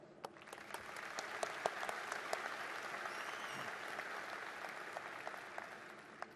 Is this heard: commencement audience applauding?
yes